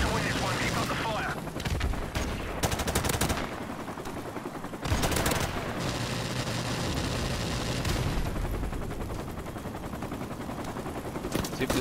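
Call of Duty: Modern Warfare Remastered multiplayer gunfire, with sustained automatic bursts and loud booming shots layered over dense game noise, and a voice talking at times.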